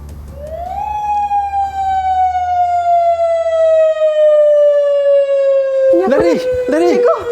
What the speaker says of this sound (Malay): Bunyi siren!